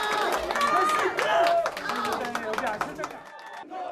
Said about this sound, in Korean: 민주당 의원들은 기립해 박수와 환호를 보냅니다